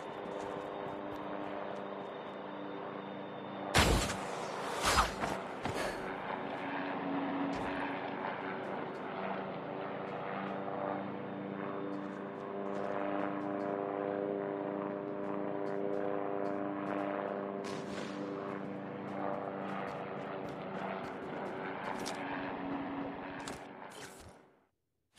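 Airdrop plane in a battle royale video game: a steady droning engine hum passes overhead, holding level for most of the stretch with a few sharp clicks and thuds early on, then fading out at the end.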